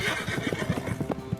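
A horse neighs in a medieval Round Table knights scene, a fairly soft whinny with a rhythmic clip-clop of hooves beneath it.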